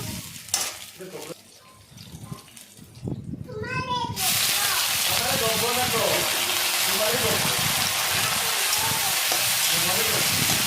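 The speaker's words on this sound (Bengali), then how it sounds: "কাঁচা লঙ্কাটা ভাজা হওয়ার পর আমি তারপর এখানে টমেটোগুলো ঢেলে দিব।" Green chilies and tomatoes hit hot oil with a sudden loud, steady sizzle that runs to the end, after a few seconds of quieter kitchen sounds and a voice talking.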